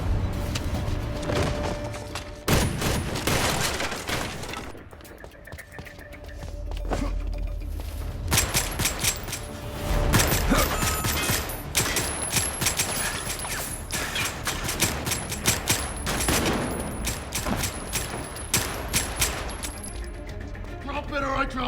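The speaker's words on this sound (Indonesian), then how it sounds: "mereka justru terlibat dalam adu tembak" Movie shootout with bursts of gunfire, sharp repeated shots and clattering impacts in uneven volleys over a tense soundtrack, loud and close throughout, with brief raised voices.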